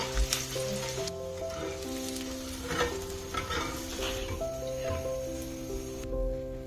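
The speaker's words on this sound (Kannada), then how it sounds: "ಬೆಳ್ಳುಳ್ಳಿ ಒಂದು ಸ್ವಲ್ಪ ಫ್ರೈ ಮಾಡ್ಕೊಳ್ಳೋಣ." Crushed garlic fries in hot oil, a loud, steady sizzle right up close with occasional stirring clatter from a pan, over faint sustained tones.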